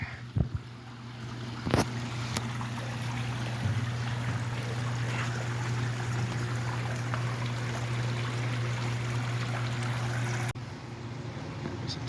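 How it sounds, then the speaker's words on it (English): A small babbling brook flows steadily outdoors, continuous broadband water rush with a low steady hum underneath and a couple of brief knocks, running unbroken for most of the stretch before dropping slightly near the end. "That's the babbling brook."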